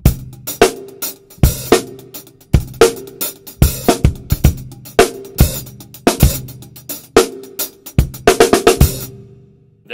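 A drum kit plays a double-handed hi-hat groove with accents: busy, crisp hi-hat strokes with louder accented hits over kick and snare, in a steady driving pattern, close and loud with no talking.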